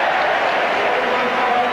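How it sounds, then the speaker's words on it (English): Football stadium crowd applauding Glenn Hoddle during a 1985-86 Spurs match, a steady, dense wash of clapping and crowd noise that fills the whole moment at close, even loudness. "just listen to the crowd's appreciation of Glenn Hoddle"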